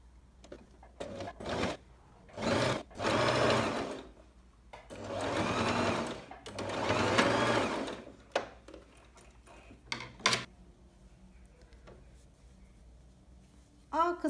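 A sewing machine stitches a French seam on trouser fabric in several separate whirring runs, the longest lasting a few seconds, with clicks, handling noises and pauses between them.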